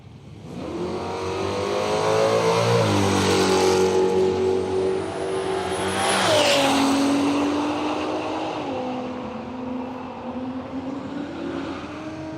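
Drag race cars roar down the strip at Willowbank Raceway in Australia, a loud, sustained engine howl with rising revs that drops at each gear change before climbing again, with no voices.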